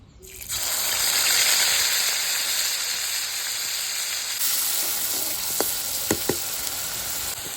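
Ingredients fry in hot oil in a karai, giving a loud, steady sizzle up close, with a few sharp clinks of a spatula near the end and no talking.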